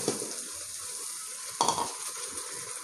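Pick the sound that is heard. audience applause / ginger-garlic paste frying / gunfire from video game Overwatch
ginger-garlic paste frying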